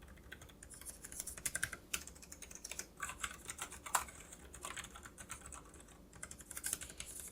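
Soft, rapid typing on a quiet Keychron B6 Pro low-profile wireless keyboard, with many light clustered keystrokes in an irregular rhythm and no voice.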